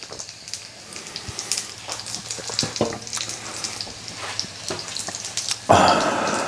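Hash browns, sausages and bacon frying in an all-in-one breakfast pan, a crackling sizzle with irregular pops and spatters, getting louder and fuller near the end.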